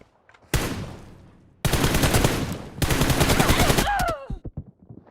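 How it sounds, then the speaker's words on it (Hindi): Rapid automatic gunfire in a team deathmatch shooter video game, three loud sustained bursts of shots close up, ending in scattered single cracks and a short whistling sound. "यहाँ पे आलोक ने जैसे ही शॉट्स मारे"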